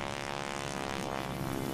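A propeller airplane used to carry ore to a distant processing plant drones steadily throughout, a continuous close engine hum with a fixed tone and no talk.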